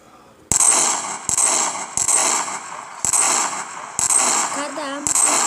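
An explosive bar detonates repeatedly in a video game, sharp bursts arriving about every second in a loud, even rhythm, with a brief voice sounding over the later blasts.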